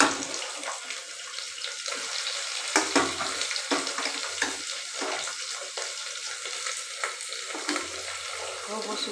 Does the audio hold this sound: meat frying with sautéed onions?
yes